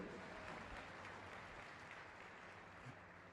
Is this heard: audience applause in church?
yes